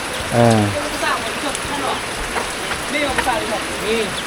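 Steady morning rain pours down in a dense, even hiss, with voices talking over it.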